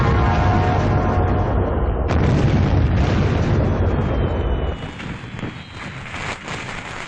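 Diwali firecrackers burst outdoors in a loud, rumbling roll. A sharp crack lands about two seconds in, and the booming tails off into softer pops and wind.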